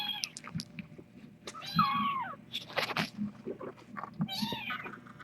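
Kitten meowing indoors at night, several high, wavering meows spread across the stretch, close and fairly loud over a low steady room hum.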